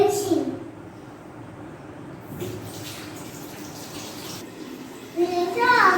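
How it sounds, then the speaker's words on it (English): Tap water runs and splashes while someone rinses the mouth during wudu, the Islamic ritual washing. The flow is steady and close, and someone talks over it near the start and end. "We rinse our mouth 3 times."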